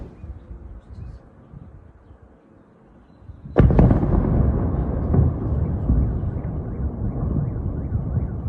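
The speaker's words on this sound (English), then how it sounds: "Right after the powerful explosion" A sudden loud blast from a drone strike erupts after a quieter rumbling stretch, followed by a sustained roaring, crackling rumble that lingers for several seconds.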